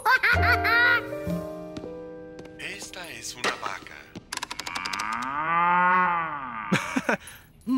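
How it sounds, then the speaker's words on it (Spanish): Cartoon cow giving a drawn-out, wavering moo in the middle of a children's animated scene, preceded by lively voices and laughter-like sounds and followed by a brief voice. "Esta es una vaca."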